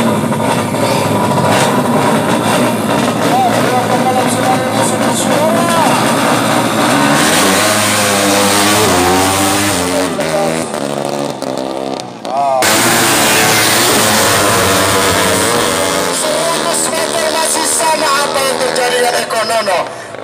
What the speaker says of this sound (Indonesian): Saat ini kita sudah masuk pada race drag bike atau motor.